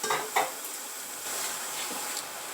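Spoon stirring blended onion and fresh pepper in a pot of Nigerian tomato stew, with a couple of soft scraping knocks near the start over a faint steady sizzle, quiet and close.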